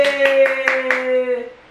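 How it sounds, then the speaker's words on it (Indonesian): A few quick, evenly spaced hand claps from children at home during a colour and shape guessing game, sounding over a sustained musical tone. "Tepuk tangan."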